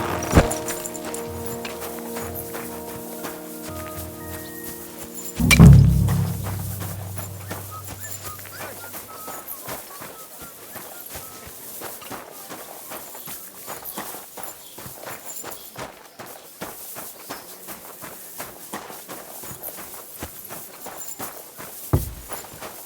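A horse's hooves clip-clop in Kingdom Come: Deliverance 2, a steady walking rhythm of close, crisp hoof strikes running through the clip after a deep thud early on.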